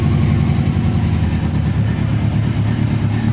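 A Kawasaki Ninja ZX-636 motorcycle engine runs steadily just after starting, a loud, close, continuous rumbling idle with a throbbing low drone and no voices.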